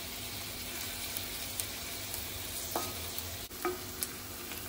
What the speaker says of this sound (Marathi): कांदा थोडा शिजवून घ्यायचा आहे